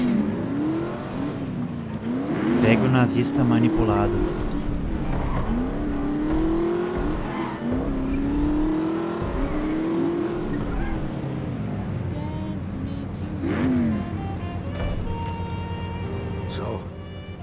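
A car engine in The Saboteur revs up and down in repeated swells, loud and near, with a shifting whine. People speak over it, and it settles toward the end.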